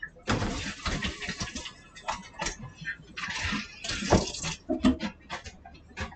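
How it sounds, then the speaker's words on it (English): A kitchen tap runs steadily while hands are washed at the sink, a moderately loud rushing, splashing stream with uneven surges and light clatter. "Let's wash our hands real quick"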